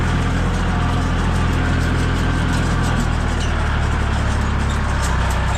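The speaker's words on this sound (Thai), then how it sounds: "นั่งรถไถค่ะ" A farm tractor's engine runs steadily throughout with a deep, continuous low rumble, heard up close from a rider on the way to the Tat Yai waterfall in Nam Nao; no talk.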